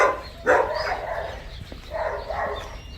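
A dominant husky lets out two separate bursts of loud, close barking with a short pause between them.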